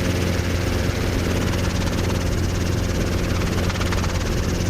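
An R22 helicopter in flight gives a loud, close, continuous rotor and engine drone with a dense rhythmic chop that holds steady throughout.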